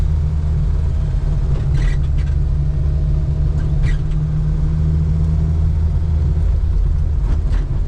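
Inside a Renault 4 driving on a rainy road in Corsica, a steady low engine and road rumble fills the cabin, with brief whooshes as it overtakes other cars.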